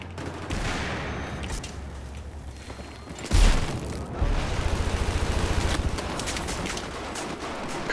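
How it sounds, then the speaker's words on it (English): Gunfire in a Battlefield video game, dominated by a steady rattle of rapid shots with a single loud heavy blast in the middle, then a dense burst of repeated fire, with no talking. "God damn shotgun."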